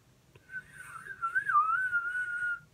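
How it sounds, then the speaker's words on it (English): A person whistles a clear, wavering tune alone at close range, a single sustained melodic line with slight pitch bends and low background hum. "That's whistling, so I can."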